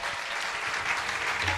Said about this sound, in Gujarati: તાળીઓથી વધાવો ભાઈઓ.